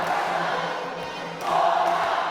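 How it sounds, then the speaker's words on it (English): Spectators in a gymnasium at a men's university volleyball match make a steady, dense roar of crowd noise that swells louder toward the end, heard close and continuous without distinct voices. "right now, the crowd is getting in on the action"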